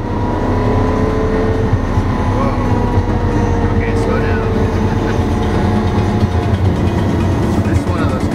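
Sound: Lamborghini Aventador supercar engine driving

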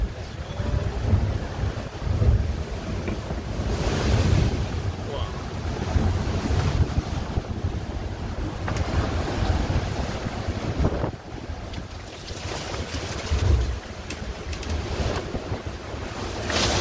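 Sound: big ocean waves and strong wind aboard a racing sailboat

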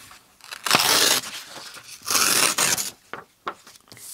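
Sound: tearing tall book pages in half by hand

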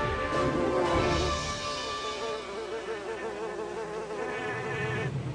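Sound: buzzing of monster bees in a cartoon

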